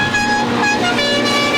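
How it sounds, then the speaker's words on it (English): A car horn honks steadily and loudly through a moment of a rally stage on the Wellington waterfront, its tones held with slight pitch shifts over continuous engine noise. "Would that horn ever break?"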